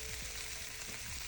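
Chicken fries in olive oil in a non-stick pan, a loud, steady sizzle broken by a few soft thumps as the pieces are moved around.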